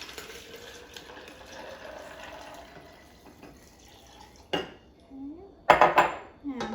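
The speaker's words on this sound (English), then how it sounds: "And we'll go ahead and pour that in." Sugar water for homemade lemonade is poured into a pitcher, a faint steady trickle followed by louder splashing and clinks of glass near the end.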